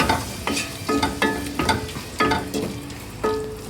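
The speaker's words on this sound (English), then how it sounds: "Then you give it a good stir." Vegetables seasoned with turmeric, black pepper and salt stirred in a pan, a spoon scraping in steady repeated strokes about every half second, close and clear over a soft sizzle.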